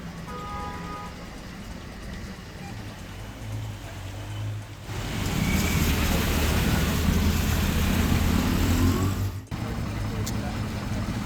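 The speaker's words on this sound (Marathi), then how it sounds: "जीव धोक्यात घालून दुचाकी स्वार प्रवास आहे पाण्यातून मार्ग काढताना अनेक वाहनं बंद पडत आहेत" Cars and two-wheelers push through waterlogged streets in Nanded during monsoon rain, a steady broadband rush of engines and splashing water that swells loud midway, with a voice audible over it.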